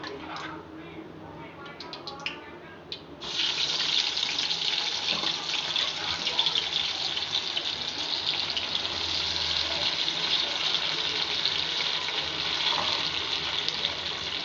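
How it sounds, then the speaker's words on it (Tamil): Cauliflower chilli pieces drop into hot oil and fry, setting off a sudden loud, steady hiss that carries on to the end. Faint talk and clatter come before it. "நல்லா ஃப்ரை ஆகட்டும் 2 மினிட்ஸ்க்கு"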